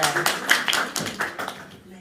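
Audience at a Pakistani entertainment event gives a short burst of clapping, several quick rhythmic claps from a modest crowd that fade out within two seconds, with a voice mixed in.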